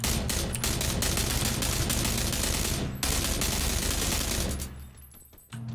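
Rapid automatic gunfire in PUBG: a dense, loud stream of shots with a brief break near the three-second mark, then more firing that thins out and fades near the end, with no talk.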